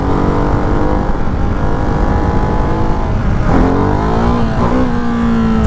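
A Ducati Hypermotard 698 Mono RVE single-cylinder motorcycle engine droning steadily while riding, loud and close, with a brief rise in revs as it shifts gear partway through.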